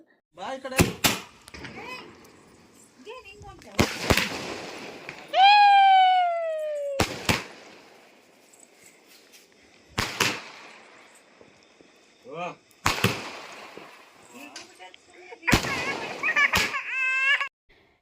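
Firecrackers set off during a birthday celebration burst in a series of sharp, loud bangs and crackles spaced across the stretch, with some whistling fireworks rising between them; voices talk faintly in the background.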